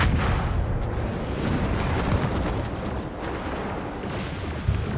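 Naval gunfire in World of Warships aimed at the American cruiser Des Moines, a steady heavy roar of rumbling cannon booms and blasts with no clear gaps, loud and close.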